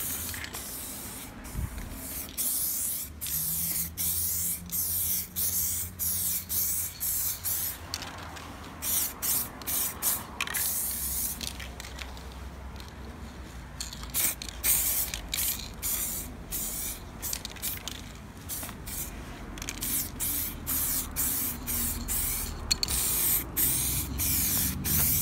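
Spray paint cans hiss in repeated short and longer bursts while coating a tank model, close and fairly quiet, with brief pauses and faint rattling between passes.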